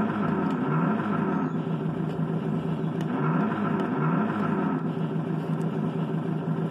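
A 1/6 scale model car's engine revs loudly and steadily for the whole stretch, a dense continuous motor drone with small surges in pitch, close to the listener and with no talking.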